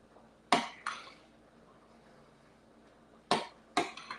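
A spoon stirring navy bean soup in a pot knocks against the metal, giving two pairs of crisp clinks separated by a long quiet gap, close and fairly soft.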